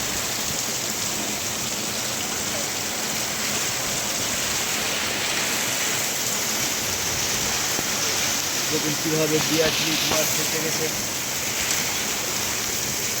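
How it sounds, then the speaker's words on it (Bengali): Heavy rain and storm winds lashing an open field, a steady loud broadband wash of downpour throughout, with a person talking over it. "শুরু হয়ে গেল বলতে বলতে প্রচুর বৃষ্টি আর এদিকে ঝড়"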